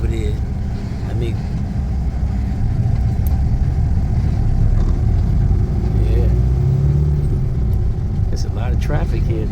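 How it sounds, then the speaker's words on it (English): Busy city road traffic in Dubai: a steady broadband rumble of passing cars and engines close by, with a brief voice on top. "There's a lot of traffic here, though."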